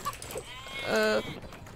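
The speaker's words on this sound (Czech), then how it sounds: "ne, to je ovce" A sheep in a video game lets out one short, close bleat midway through, standing alone over a low background hum.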